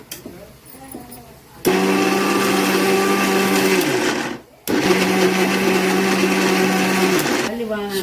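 An electric mixer grinder blends ginger garlic paste in two long, loud whirring bursts separated by a short pause, with quieter kitchen sounds before and after.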